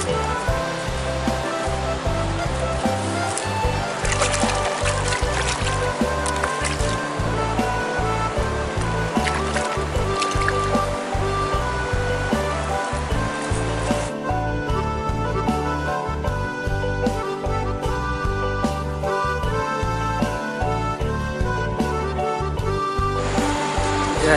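Fresh fish are washed in water beside a river while fishing, a continuous rushing, splashing water sound that fills the scene, with rhythmic low thumps underneath and no clear speech.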